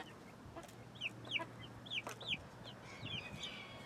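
Chickens in a pen inside a larger backyard run give a series of short, rising clucks and chirps, four or five calls spaced about half a second apart, moderately close over a faint steady hum, with no talking.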